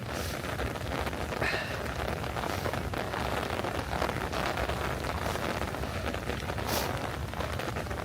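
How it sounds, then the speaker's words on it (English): Steady rain falling on a New York City street on a December morning, a constant close wash of drops and patter with no talk. "Oh, that's definitely rain."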